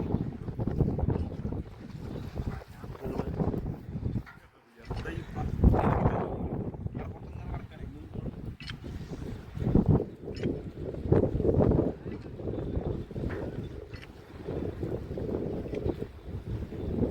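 Wind gusts at a beach buffet the microphone in uneven rumbling surges, loud and close, with people talking over it.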